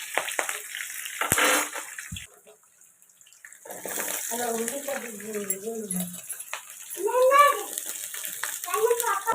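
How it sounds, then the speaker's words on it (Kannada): Onions sizzle in hot oil in a pan, a steady watery hiss and crackle while a person talks over the cooking. "ಈರುಳ್ಳಿನ ಸ್ವಲ್ಪ ನಾನು ಎಣ್ಣೆಯಲ್ಲಿ ಈ ಥರ ಕರ್ಕೋತಾ ಇದ್ದೀನಿ"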